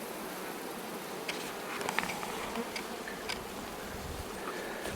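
Honey bees hum around styrofoam hives by a phacelia field in a dense, steady drone, with individual insects buzzing closer now and then over the constant swarm.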